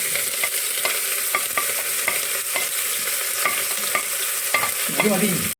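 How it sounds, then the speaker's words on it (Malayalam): Sliced onions fry in hot coconut oil inside a pressure cooker, a loud continuous sizzle broken by repeated quick spoon taps and scrapes against the pot as they are stirred. "കുക്കർ ചൂടായി വന്നപ്പോൾ എനിക്ക് വെളിച്ചെണ്ണ ഒഴിച്ചു കൊടുത്ത് സവാള ഇട്ട് കൊടുക്കാൻ അതിലേക്ക്."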